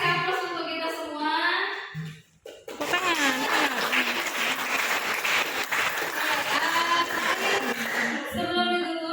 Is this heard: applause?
yes